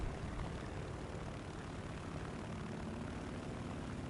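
A P-63 propeller fighter drones in War Thunder, a steady, faint, broadband engine hum that stays constant throughout with no talking.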